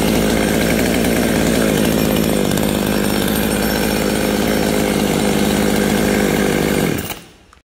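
A Komatsu G2551ES push-button-start chainsaw runs loud and close at a steady high rasping buzz for about seven seconds, then cuts off sharply into silence.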